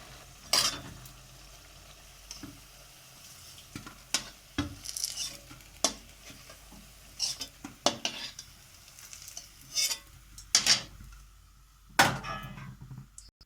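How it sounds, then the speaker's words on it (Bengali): Cabbage pakoras frying in hot oil, with intermittent stirring and scraping clatter of a utensil against the pan over a low sizzle, a few sharp knocks standing out. "দেখুন আমি এরকমভাবে সব কটি ভেজে নিচ্ছি।"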